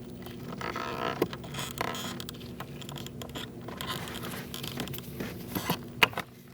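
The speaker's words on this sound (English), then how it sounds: "you're going to unclip it, this gray part of the connector" A gray plastic connector is unclipped from the blower motor resistor of a 2004-2012 Chevrolet Colorado, giving faint creaks and scattered small clicks with two sharper snaps, close and quiet, with no talk.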